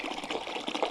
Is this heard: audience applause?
no